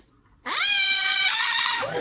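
A pet parrot lets out one loud, piercing harmonic scream that starts abruptly and holds for over a second before cutting off.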